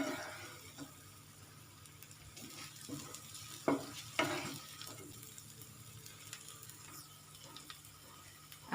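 Ground masala paste (vaatan) frying in a pan for a Maharashtrian sukka mutton dish, a soft steady sizzle broken by a few stirring scrapes, close and fairly quiet, with no talking.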